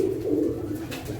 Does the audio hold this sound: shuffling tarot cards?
no